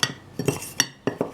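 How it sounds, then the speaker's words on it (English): Two knives cut cold butter into flour, brown sugar, cinnamon and walnuts in a bowl, giving four distinct metallic scraping clinks in an uneven back-and-forth rhythm, close and clear with no talking. "Use your 2 knives to start cutting in your cold butter."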